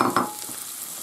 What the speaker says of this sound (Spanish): Y ahora tenemos que echar el puerro,